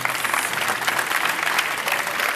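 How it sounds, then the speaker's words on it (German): Moderate audience applause at a presentation of an LED cube project, a steady patter of many hands clapping from a seated crowd, heard at middle distance for a couple of seconds. "einen herzlichen Applaus für die beiden."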